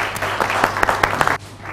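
An audience applauds performers as they come on stage, dense clapping with a few sharper claps standing out, then it drops away to quieter room noise near the end.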